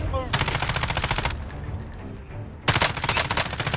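Rapid automatic gunfire in Call of Duty Warzone, two loud, close bursts of fast rattling shots separated by a brief lull.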